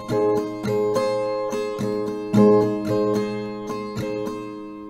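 An acoustic guitar strums a chord in a steady down-up pattern, about two strokes a second, close and clear with no voices.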